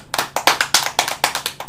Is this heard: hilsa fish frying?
no